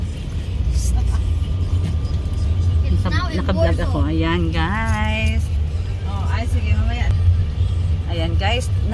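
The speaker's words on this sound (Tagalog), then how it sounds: "napaka-traffic dito guys talaga sa city of Cebu" Heavy city traffic in Cebu, a steady roar of cars and buses that stays constant throughout, with people talking close by over it.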